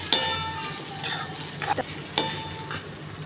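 Sago and crushed peanuts being sautéed in a pan, with a few scraping stir strokes and light clinks of a spoon against the metal over a soft background hiss, no talking.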